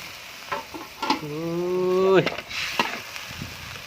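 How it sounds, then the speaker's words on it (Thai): Crispy pork with holy basil is stir-fried in a pan, with steady sizzling, scraping and stirring, and a short rising squeal in the middle. "พัดกระเพราหมูกรอบครับ"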